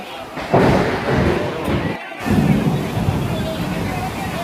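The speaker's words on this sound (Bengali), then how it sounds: "আকাশে বিদ্যুৎ চমকাচ্ছে এবং প্রচণ্ড বেগে বৃষ্টি ঝরছে" Thunder rumbling during a heavy rainstorm at a fish market, deep booming rolls over a constant wash of loud rain, close and dominant, with no talk.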